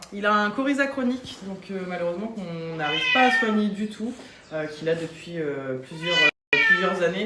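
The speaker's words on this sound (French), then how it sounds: "Ce pauvre chat, regardez, il est malade." A sick cat with chronic coryza at an animal shelter in Caen meows repeatedly in long, wavering, whiny cries, close and loud, while someone talks over and between the meows.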